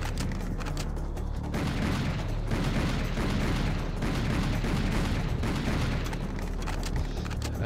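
Video game gunfire from a gun with unlimited ammunition, dense and continuous bursts of shots and booms with a rumbling low end, loud and unbroken throughout.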